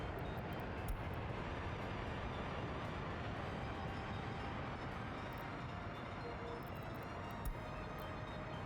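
A train rumbles steadily in the Soviet-era city-building game Workers & Resources: Soviet Republic, a continuous low mechanical roar with a couple of faint clicks, quiet and without pauses.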